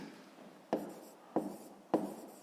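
Chalk or marker writing on a board during a fifth-grade maths lesson: three short, distinct scratchy strokes spaced about half a second apart, close and fairly quiet over a soft room hiss.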